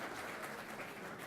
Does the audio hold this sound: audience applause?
yes